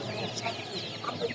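Chickens cluck repeatedly at a village poultry market where ducks and hens are sold, several birds overlapping at moderate distance over a steady crowd murmur.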